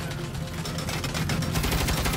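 Turret gunfire in the video game Saints Row: a dense, continuous roar of rapid automatic shots, loud and close, growing slightly harsher toward the end.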